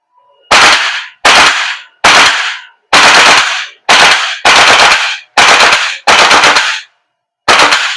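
WE AK74 gas blowback airsoft rifle firing full auto in repeated sharp bursts, each a loud rapid rattle of shots separated by short pauses, close and with no talking.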